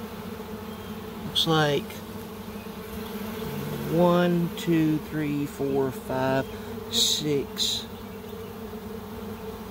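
A wild honey bee swarm hums steadily in a box as it is opened, a continuous close drone with someone speaking in short phrases over it.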